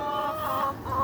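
Garden hens in southwest Ireland give a few soft, close clucks in quick succession, alone with no voices.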